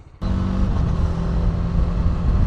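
A TVS RTR 310 motorcycle with touring modifications starts riding off, a sudden loud low engine rumble kicking in and holding steady close by.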